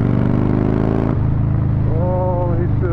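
A 2008 Yamaha Raider motorcycle accelerates at three-quarter throttle, a loud close engine roar that shifts gear midway and climbs in pitch, with a voice briefly heard over it.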